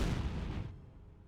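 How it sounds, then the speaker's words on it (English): A bundle grenade blast in the World War II strategy game Company of Heroes, a loud broadband boom that rolls out and fades over about a second, with no voices over it. "Bundle grenade thrown? No response. Explodes for big damage."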